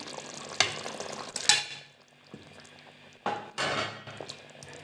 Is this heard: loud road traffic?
no